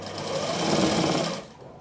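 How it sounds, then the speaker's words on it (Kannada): A sewing machine stitches fabric piping, running in one continuous close, rapid mechanical chatter for over a second before stopping. "ಈ ಕಡೆ ಬ್ಯಾಕಿನ ಸೈಡ್ ಹೊಳಿಸ್ಕೊಂಡ್ರೆ ಸ್ಟಿಚ್ ಮಾಡಬೇಕು."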